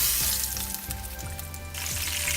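Koi fish frying in oil in a pan over low heat, a continuous close sizzle with a low hum and a few soft clinks.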